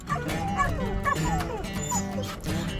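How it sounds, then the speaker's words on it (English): Several dogs, loose in the desert around Monument Valley, bark and yip in quick, overlapping bursts while chasing a moving Jeep, heard close over steady vehicle noise. "someone else's dog is jumping into your car"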